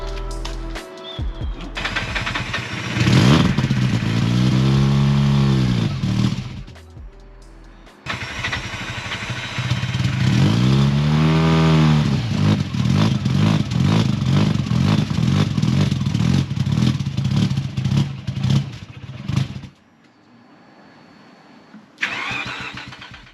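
A bridge-ported rotary engine in a Mazda RX8 cranks and catches, then revs in loud rising and falling bursts with choppy idle between, cutting out twice before a brief restart near the end.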